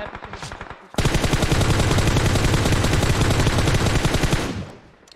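Rapid automatic gunfire from behind in PUBG Mobile on the Karakin map, a loud, dense burst of fast shots that runs steadily for several seconds and then stops, with a quieter shot or two before it.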